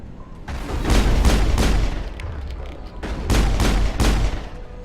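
Gunfire in the video game Mass Effect 1 during a ruins firefight, two volleys of rapid heavy shots with booming impacts, loud and close, separated by a short lull.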